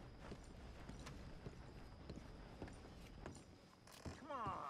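A horse's hooves clip-clop at a steady walking pace in Red Dead Redemption 2, with a faint whinny-like sound near the end and quiet game ambience underneath.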